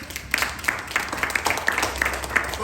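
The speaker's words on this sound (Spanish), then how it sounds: "le doy un aplauso a Dios" Scattered, fairly faint hand claps from a church congregation applauding God during a Bible class, irregular and sparse over a low room background.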